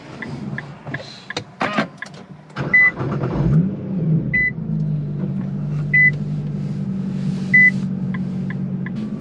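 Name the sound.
car engine starting after Stage 1 Cobb tune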